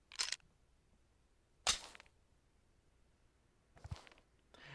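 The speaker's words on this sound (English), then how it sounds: "an inspect sound of this game" A pistol inspect animation in the mobile shooter Critical Ops gives three short, quiet metallic clicks and flicks, each alone and separated by brief silent gaps.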